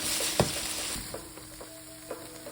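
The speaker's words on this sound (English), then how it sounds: "carefully place the veal in a skillet and brown it quickly on all sides" Veal browning in foaming butter and avocado oil in a skillet sizzles with a steady close hiss, broken by a few soft knocks and scrapes.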